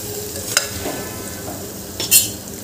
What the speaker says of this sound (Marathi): हे मिक्स करून घ्यायचं आपल्याला